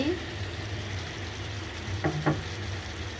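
Carrots and other vegetables being added to simmered beef in a pan and stirred, a soft continuous sizzle and bubbling with a couple of brief utensil clinks near the end.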